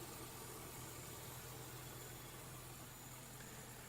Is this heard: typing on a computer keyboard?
no